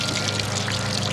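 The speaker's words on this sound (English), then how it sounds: "We're going to take out the clothes, and you're just going to wring it out." Water streams and splashes steadily from hand-wrung wet laundry after an off-grid manual wash, a close, continuous pouring trickle with no talking.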